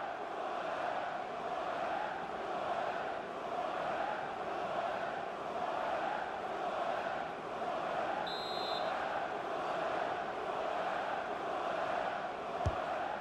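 A stadium crowd in the FIFA football video game swells and rolls in steady waves during a Mexican wave, a dense continuous roar with slow rising and falling surges throughout.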